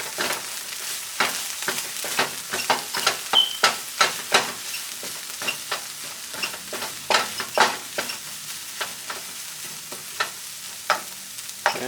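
Garlic and sofrito frying in a pan while being stirred, a steady sizzle broken by repeated scraping strokes of a spoon at an uneven rhythm, close and fairly loud, with no talking.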